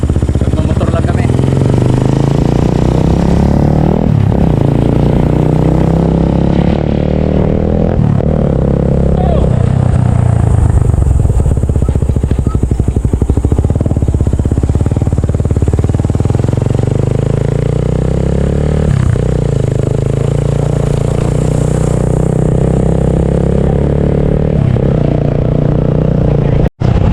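A motorcycle engine drones loudly and continuously while riding, with shifting pitch as it speeds up and slows, and occasional voices under the steady roar.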